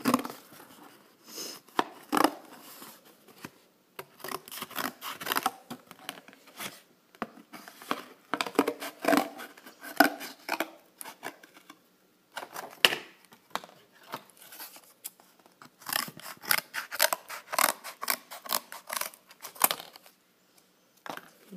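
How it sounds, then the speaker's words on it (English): Close, crisp cutting and crunching sounds come in irregular bursts as scissors cut cardboard, with rustling and snipping against quiet gaps. "When I'm cutting things out that require detail, I like to start big before I cut the details out."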